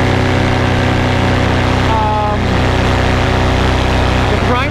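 A Motor 185 paramotor engine runs in flight, a loud continuous droning hum with a steady pitch that holds for the whole stretch, and a voice is faintly present over it.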